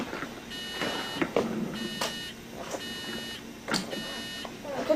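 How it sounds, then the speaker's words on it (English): An industrial alarm for section 2 beeps in repeated short electronic tones over a steady background hum, sounding at a moderate distance. "Yeah, Pete, I got an alarm on section 2 again."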